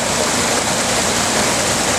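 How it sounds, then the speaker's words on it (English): Treated water from a south basin, settled after batch treatment, pours out in a steady, dense rushing flow, constant in level and with no talk. "now we're running the water out of that south basin that we just treated with RM10"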